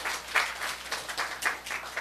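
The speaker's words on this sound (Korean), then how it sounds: "우리 하나님 박수 올려드려요" A church congregation claps during a Sunday worship service, a moderate, rhythmic patter of many hands with periodic louder swells, fairly close and without talk.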